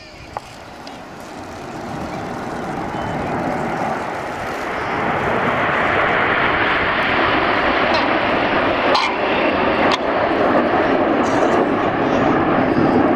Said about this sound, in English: We've got 6 aircraft all flying line abreast with Red 1 at the front